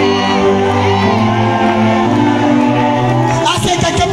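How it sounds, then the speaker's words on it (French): A large crowd at an open-air religious crusade in a stadium shouts and cheers loudly together, a dense roar of many voices with a sharper burst of cries near the end. "Il va dire Amen fort."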